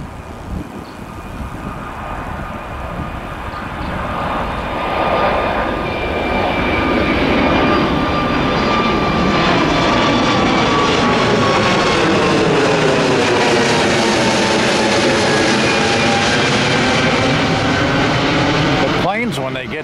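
Jet airliner taking off at Miami International Airport, a loud engine roar building over several seconds into a sustained, screaming whine with shifting tones as the aircraft passes close by.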